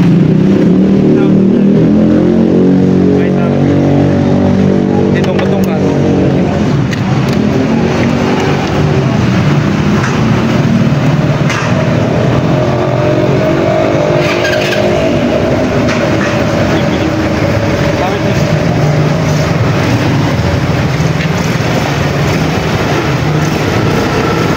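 A GY6 125 motorcycle engine, push-started after its key was broken off, runs loud and close in a steady, continuous drone for the whole stretch, with no pause in the noise.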